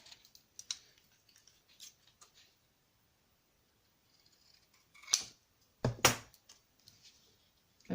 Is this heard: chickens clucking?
no